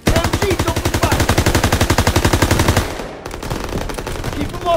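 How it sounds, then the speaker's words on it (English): A World War II machine gun in Call of Duty: WWII fires a long, loud, rapid and steady burst that cuts off sharply, followed by scattered distant gunfire and battle noise. "MG, open fire!"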